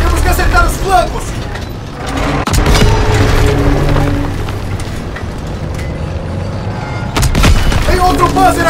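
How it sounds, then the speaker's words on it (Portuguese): Tank cannon fire and explosions in the World War II shooter Call of Duty: WWII, with heavy booms, rumbling engine noise and scattered gunfire, loud and continuous, while shouting voices break in over the battle. "Tanque, tanque! Porra, é um tanque!"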